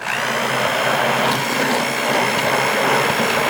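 Electric mixer whirring steadily through keto custard batter as hot bacon grease is added, a loud, continuous high motor whine close by with no talk.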